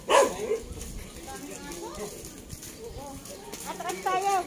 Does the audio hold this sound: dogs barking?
yes